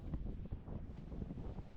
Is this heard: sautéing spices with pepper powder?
no